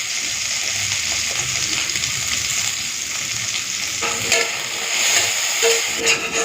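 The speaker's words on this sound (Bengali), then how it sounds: "তো উচ্ছেটাকে না লাল করে ভেজে নিয়েছি, একটুখানি ছড়িয়ে ছড়িয়ে রেখে ভেজে নিয়েছি লাল করে।" Bitter gourd seasoned with salt and turmeric fries in oil in a pan, a constant close hiss of sizzling with occasional stirring clatters toward the end, no voices.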